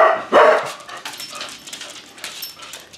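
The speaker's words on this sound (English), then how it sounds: "Saying hi is not an invitation to bark." A pet dog, likely a corgi, gives a short burst of yips and barks near the start, followed by softer whimpering noises in a quiet indoor room.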